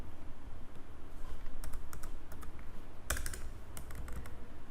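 Close, crisp computer keyboard typing as array code is entered for a data structures program, with quick irregular keystrokes and a few sharper clacks, no voice.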